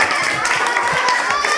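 Children clap for their grandmother in a quick, steady run of close hand claps that fills the whole moment, with a bit of voice mixed in.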